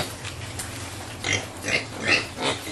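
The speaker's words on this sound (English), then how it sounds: "in the pig farm of the African Center for Community and Development" Pigs at a pig farm of a community development centre in Africa grunt and squeal in a few short bursts over a steady rustling background, moderately close, with no talking.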